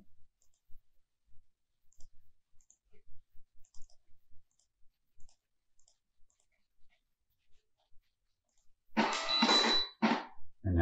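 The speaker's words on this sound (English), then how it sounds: "that's the order being printed out" Point-of-sale thermal printer spitting out a kitchen order ticket, a dense burst of printing for about two seconds near the end after quiet scattered clicks.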